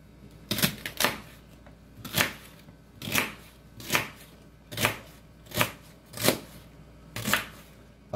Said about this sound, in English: Got all my veggies chopped up.